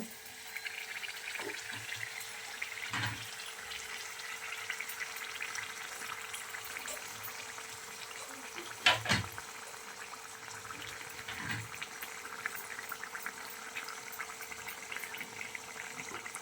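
Mangalore-style wheat flour buns fry in a pan of oil with a steady, low bubbling sizzle, a few soft knocks and a brief louder splash near the middle as the buns are turned, with no talking.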